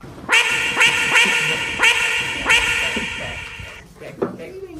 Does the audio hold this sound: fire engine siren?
no